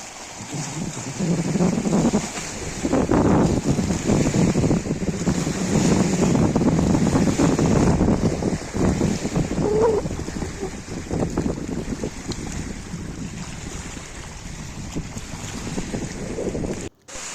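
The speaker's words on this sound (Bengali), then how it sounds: "প্রচণ্ড বেগে হাওয়া চলছে। হাওয়ায় জলের তরঙ্গ সৃষ্টি হয়েছে, একটু আওয়াজটা শুনুন।" Strong gusting wind buffets the microphone beside the Tenughat Dam reservoir, with choppy waves lapping and splashing underneath in a continuous loud roar that eases slightly toward the end.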